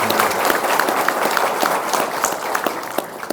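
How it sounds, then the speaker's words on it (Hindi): Dense applause from a crowd welcoming the announcement of the Rashtriya Lok Morcha merging into the Congress party, steady loud clapping filling the hall without a break. "मैं समझता हूं कि तालियों की गड़गड़ाहट से इसकी स्वागत"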